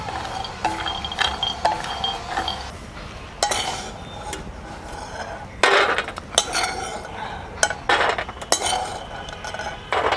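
Almonds, fenugreek seeds and edible gum being dry-roasted in a pan, with a spoon scraping and clinking against the metal in irregular close bursts over a soft background rustle.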